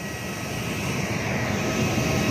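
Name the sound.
Garuda Indonesia airplane arriving, jet engines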